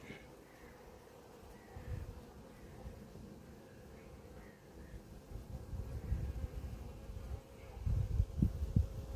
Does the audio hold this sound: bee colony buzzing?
yes